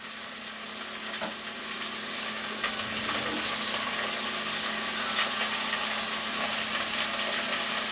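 Tomato sauce with onions bubbles and sizzles in a pan, a dense, steady hiss with scattered small pops, close and continuous throughout.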